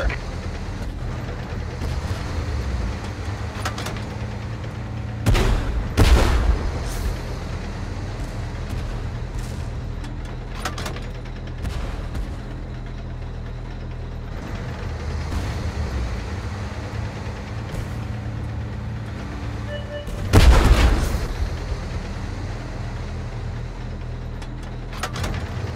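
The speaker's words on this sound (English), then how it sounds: "We're under fire." Tank battle in the game Tank Force: a constant engine rumble punctuated by a few loud cannon shots and impacts, with brief voice callouts under the noise.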